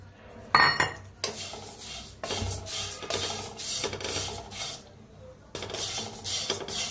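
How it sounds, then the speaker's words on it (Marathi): Flour for chakli dry-roasting in a kadhai on a gas stove, stirred with a scraping, rasping spatula against the metal pan in steady strokes, with a few brief pauses and no talking. "आता फव आपण जरा भाजून घेऊया।"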